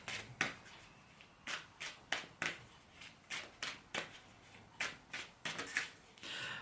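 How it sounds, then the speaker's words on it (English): Tarot cards are pulled and shuffled by hand, a quiet series of crisp riffling flicks and slaps arriving in irregular bursts close up, with no talking. "Let's pull another couple of tarot cards."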